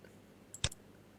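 A single computer mouse click while working in Revit MEP 2020 software, a brief sharp tick standing alone against a quiet room background.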